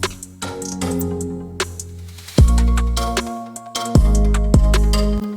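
A riser effect panned with the Pancake plugin sweeps and swells inside a full beat, with sharp percussive hits and deep booming bass notes surging at regular intervals.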